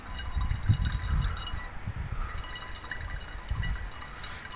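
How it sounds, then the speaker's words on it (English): Brake fluid trickles and drips from a vehicle wheel's brake line as it is bled, a soft, continuous liquid flow with light clinks, close and fairly quiet, with no talk. "Just fill in some more fluid from this side, and we're going to check the colour of the fluid as it's flowing."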